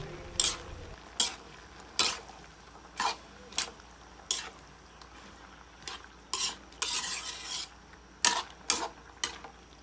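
A spoon stirs chili and pork cubes in a cooking pot of pork dinuguan with bottle gourd, giving a steady series of sharp scraping strokes against the pot over a faint sizzle, close by and with no talking.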